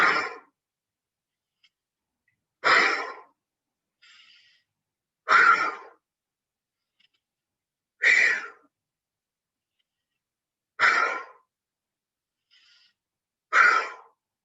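Slow, steady breaths sound up close, six airy bursts spaced a few seconds apart with near silence between them.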